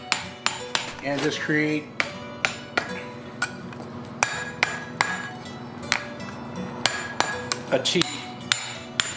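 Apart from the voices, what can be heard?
hammering steel over a cutoff hardy while forging tongs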